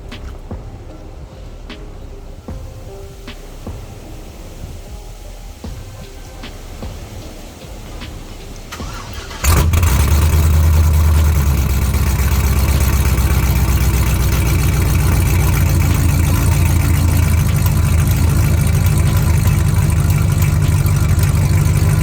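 A Cadillac CTS-V with an exhaust leak turns over and roars to life after a quieter stretch of background noise, then settles into a loud, rumbling idle that stays steady through the rest of the clip.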